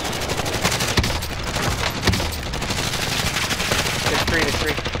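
Shooter video game gunfire, a continuous rapid stream of loud, close automatic shots across several seconds with a few sharper cracks standing out, no speech over it.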